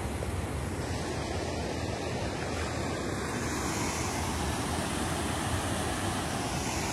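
Small waterfalls tumbling through a mountain landscape near Zeballos produce a steady, broadband rush of falling water that holds constant from start to finish, with no voices over it.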